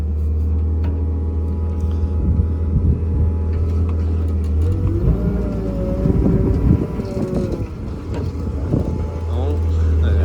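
The Detroit 3-53 diesel engine of an old, scrapped road roller turns over and runs, a loud, steady low rumble with a shifting, revving middle, close up, with voices partly over it.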